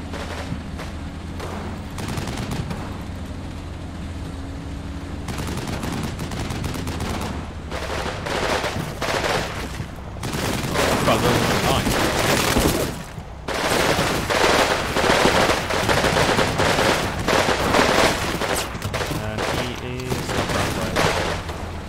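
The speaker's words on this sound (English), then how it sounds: "They're losing a lot of men here due to us having these 50 cals on this right position." Sustained .50 caliber machine gun fire from defensive positions in the World War II strategy game Combat Mission Red Thunder, with dense overlapping bursts and booms that build louder midway and continue, no talking.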